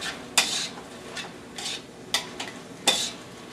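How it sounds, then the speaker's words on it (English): Shirataki noodles drop into a hot stir-fry pan with a few sharp clatters and soft sizzling, sparse utensil scrapes spaced across a quiet kitchen background. "I'm now going to toss in the noodles."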